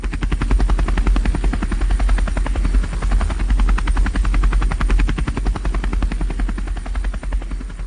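A loud helicopter drones steadily with a rapid rhythmic rotor chop, close and continuous throughout.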